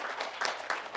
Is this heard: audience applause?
yes